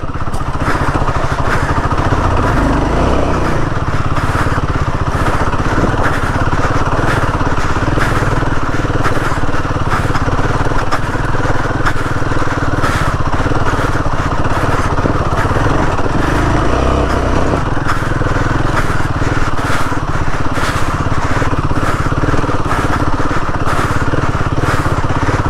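A Royal Enfield Himalayan 450 motorcycle on an extreme off-road trail to the Sadasiva Kona waterfalls, its engine droning loud and close throughout with steady revving and rough, uneven load.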